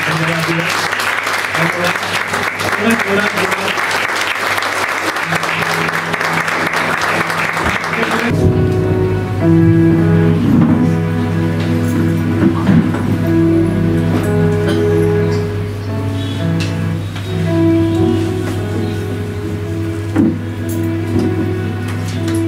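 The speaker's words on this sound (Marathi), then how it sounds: "प्रभू येशू ख्रिस्ताला आपण एकदा जोरात टाळ्या वाजवून" A church congregation claps loudly and steadily for about eight seconds during worship, then the clapping stops abruptly and gives way to music with talk over it.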